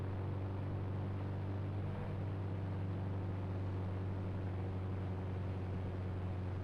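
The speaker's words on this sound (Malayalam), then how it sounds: "ഇതാണ് നമ്മളെ മിലിറ്ററി ഹെലികോപ്റ്റർ." A military helicopter in the Indian Bike Driving 3D video game, a steady droning engine hum with a strong low tonal whine, faint and unchanging, with no voices.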